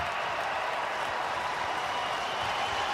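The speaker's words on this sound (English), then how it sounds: "The roar of the crowd." Stadium crowd at the NFL Combine roaring, a dense, loud, continuous wash of cheering and applause that holds steady throughout with no break.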